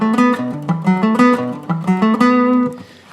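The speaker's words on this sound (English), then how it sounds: "So if I pick up here over the hole with this thin pick," A guitar picked with a thin pick over the sound hole plays a quick, even run of single notes, close and clear, before the last note rings out alone.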